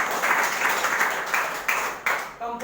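An audience claps steadily in a hall during a talk about Keva Industries, a dense continuous patter of many hands that swells and dips slightly, with a brief pause near the end.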